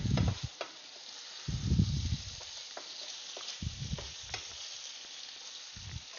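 Onions fry in a pan for dirty burgers, giving a low steady sizzle broken by louder bursts of stirring and scraping, close and fairly quiet with no talking.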